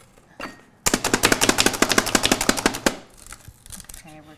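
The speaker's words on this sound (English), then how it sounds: "Chopping it all up." A handheld food chopper hacks through vegetables for pasta fagioli in a rapid, loud run of sharp chops lasting about two seconds, followed by softer clatter and a voice speaking.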